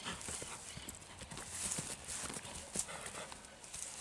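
A small dun pony mare kept on a farm walks with quick, irregular hoof clip-clops, faint and fairly close, over light background noise.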